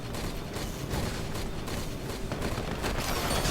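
Dense, continuous video game artillery barrage on the Chasm map during a tournament match, a steady wash of overlapping distant booms and blasts with no gaps.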